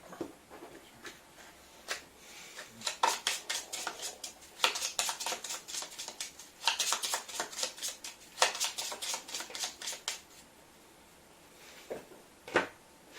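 Cards shuffled for a tabletop game, bursts of rapid riffling and flicking clatter in several separate runs with short pauses between, close and moderately loud.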